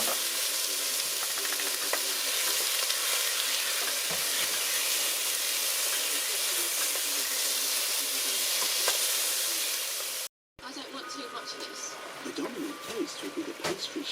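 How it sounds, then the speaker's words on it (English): Beef browning in a pan for pepper pot soup, a steady bright sizzle filling the whole stretch, broken by a brief cut and then lighter crackling with a few scrapes. "I've got the beef browning, chopped the garlic."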